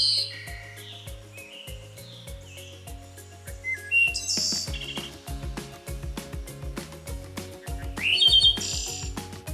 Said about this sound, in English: that beautiful sound is from a bird.